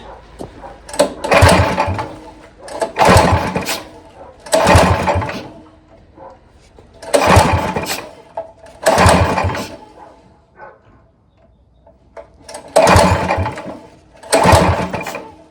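A small engine, apparently a lawn mower or similar machine, is cranked over in repeated bursts of about a second each, with short pauses between pulls. It is loud and close, and there is no talk over it.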